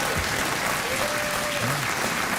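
Loud studio audience applause on a talk show, dense continuous clapping filling the short stretch, with a faint voice underneath.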